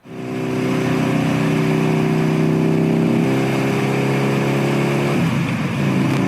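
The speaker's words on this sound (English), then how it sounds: "We're gonna jump on the bike. Let's go for a ride." A Harley-Davidson V-Rod motorcycle engine runs loud and close, a sustained throaty drone with steady pitch that shifts slightly near the end, heard alone without talk.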